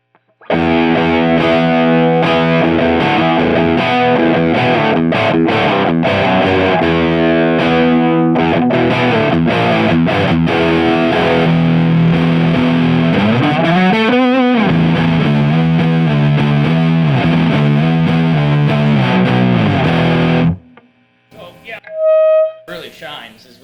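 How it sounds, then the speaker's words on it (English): Dragon Leviathan guitar amp with a clean preamp and overdriven power tubes, a loud distorted guitar playing sustained chords and a bending phrase, cutting off near the end with a brief quiet tail. "There's one thing I want to try is keeping the preamp clean and just overdriving the power tubes."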